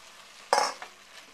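Browned sausage goes back into a hot pan with garlic, setting off a sudden burst of crackling sizzle and a smaller second flare, then settling into a faint steady hiss.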